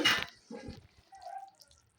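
Finished bele fish and potato curry poured out of the cooking pot in a brief, quiet burst of wet slopping and dripping, with a light clink of metal cookware partway through.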